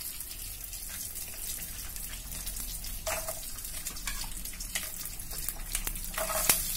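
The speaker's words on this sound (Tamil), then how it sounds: "நாம இருக்குற பூண்டெல்லாம் போட்டுக்கலாம் கொஞ்சம் பொரிட்டோம்" Garlic cloves fry in hot oil in a pan for a Tamil-style drumstick and potato pepper fry, giving a steady close sizzle and crackle with a few light clinks throughout.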